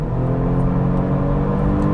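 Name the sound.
Genesis G70 3.3T engine accelerating at highway speed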